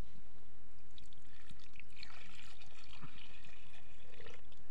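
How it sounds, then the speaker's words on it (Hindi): Water pours steadily into a pot set on a makeshift outdoor stove in an Uttarakhand forest campsite, a continuous splashing stream for several seconds, close and fairly loud with no talking. "और अभी इसमें पानी डालता हूँ"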